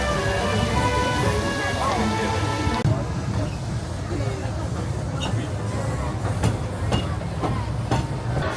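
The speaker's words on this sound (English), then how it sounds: "And just like that, the train's here after only waiting a few minutes." The Disneyland Paris Railroad train arrives at a station amid a steady rumbling and rushing din, with rain-like noise and faint clacks over the whole stretch and voices mixed in.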